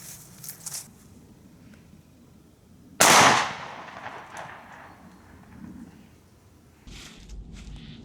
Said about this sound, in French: pour ma dernière cartouche Solognac, je vais la tirer à 15 mètres